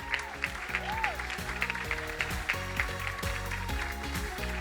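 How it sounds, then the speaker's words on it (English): Audience clapping for pitching teams at a grand final competition, a steady dense patter of many hands sustained throughout with a tonal musical bed beneath it. "give them one last round of applause before we bring them up"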